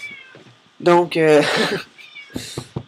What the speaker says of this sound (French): ça c'est mon chat qui vient de monter sur mon lit.